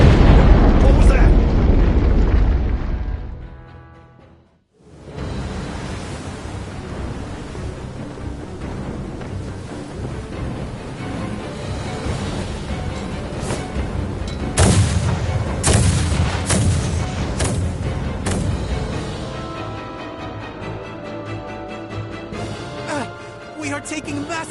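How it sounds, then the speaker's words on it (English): Heavy naval artillery bombardment in the video game Star Ocean: The Divine Force, with a dense roar of booming explosions and impacts after a brief drop near five seconds, with voices under the barrage. "We are taking massive fire from the Empire's naval battalion. Their unceasing bombardment is laying waste to our forces."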